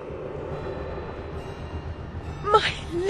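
A train rolls steadily with a low continuous rumble in the video game Alice: Madness Returns, and a brief louder rattling burst comes near the end.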